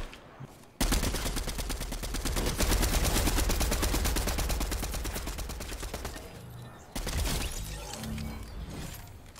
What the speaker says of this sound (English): Sniper shot, 220.